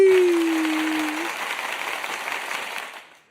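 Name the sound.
clapping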